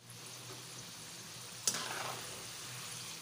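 Chana dal frying in hot oil for a salty snack, a soft, steady crackling sizzle with one brief sharp pop in the middle.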